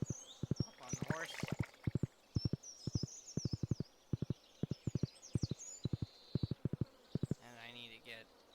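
Horse hooves clip-clop steadily in a video game, a run of quick paired knocks repeating evenly with chirpy game effects and a brief flurry in between.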